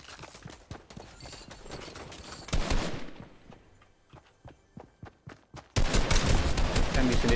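Rapid bursts of Fortnite gunfire crack in quick succession, several loud volleys with short gaps, ending in a dense stretch of sustained shooting.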